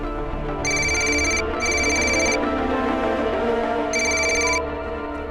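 A telephone rings on an outgoing call, three steady electronic ring tones separated by gaps, loud and clear over a low hum.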